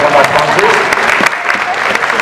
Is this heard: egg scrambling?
no